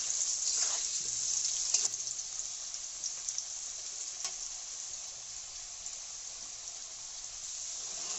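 Potatoes fry in a pan for a home-style prawn curry with pumpkin stems, giving a steady, close, bright sizzle that hisses on without a break, with a few faint clinks along the way and no talking.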